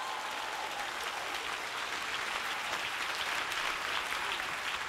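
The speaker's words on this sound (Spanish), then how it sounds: "Si ese es el aplauso para tu papá, mejóralo." Audience applause during a church sermon, a continuous wash of many hands clapping at moderate loudness, steady throughout with no distinct voices.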